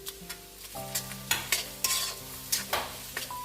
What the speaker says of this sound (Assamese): মই আদা নহৰু কেঁচা গোন্ধ যোৱালৈকে এনেদৰে ভাজি থাকিম।